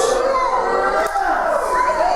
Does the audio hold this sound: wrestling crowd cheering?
yes